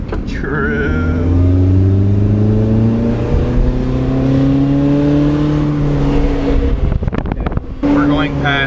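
A car exhaust revs loudly and drones as the car drives through town past a restaurant, the engine pitch rising and falling steadily for several seconds; people talk over the engine noise.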